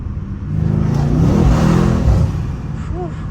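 Stage 2 Mercedes C63 making roughly 650 horsepower, driven hard with traction control off, its engine surging loud and close as it accelerates, then easing off with an early upshift.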